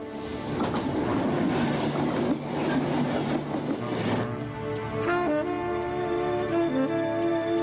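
A Belgian SNCB train rumbles along the rails in Wallonia with rhythmic clacking, then slows as squealing wheels and tonal brake whines take over near the end.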